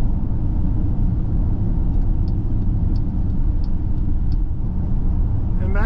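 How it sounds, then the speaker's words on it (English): Steady road rumble from inside a 2024 Jeep Grand Cherokee L Limited 4x4 as its V6 pulls up to speed through an 8-speed automatic, a continuous smooth engine and tyre drone heard alone. "V6 just gets you right up to speed, no problem. Nice linear torque delivery, nice smooth shifts out of this 8-speed automatic"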